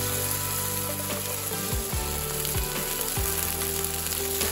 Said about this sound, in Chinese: 以画圈的方式加入米酒，稍微翻炒就可以加入水